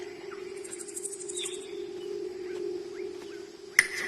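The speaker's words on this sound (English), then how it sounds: "It's almost like crickets or insects." Steady insect-like trilling from crickets or similar insects in the Malayalam film Churuli, a constant close drone with faint high chirps above it and a sharp click near the end, with no talk.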